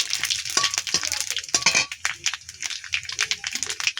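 Bay leaf and panch phoron spices fry in a little oil in a pan, giving a bright crackling sizzle with pops and clinks of stirring throughout. A voice is heard speaking faintly at times.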